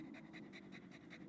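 A tired dog pants in hot weather, a quick, steady rhythm of short breaths, about six or seven in a second and a half, close by and fairly quiet, with no talking.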